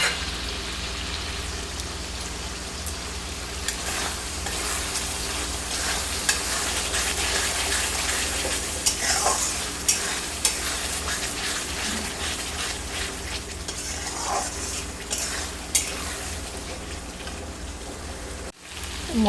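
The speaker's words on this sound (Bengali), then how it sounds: "এবার এতে আমি ভেজে রাখা আলু আর সিদ্ধ করা মটর দুটো দিয়ে ভালো করে আরেকটু কষিয়ে নেব।" Fried potatoes and boiled peas are stirred into spice masala in a pan with a steady close sizzle, a spoon scraping and turning the mix at intervals over the continuous frying hiss.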